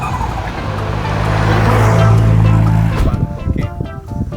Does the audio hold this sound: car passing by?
yes